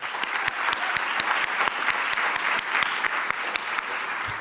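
An audience at an innovation showcase event claps steadily, a dense, even wash of applause with distinct individual hand claps standing out near the front throughout.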